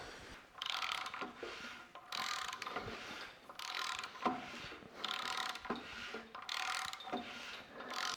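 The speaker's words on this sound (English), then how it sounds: "Now we'll install the correct tensioner and torque it to 55 Newton meters." Ratcheting wrench tightening a timing chain tensioner on a BMW N53 engine, bursts of rapid clicking in repeated strokes with short pauses between, close and distinct.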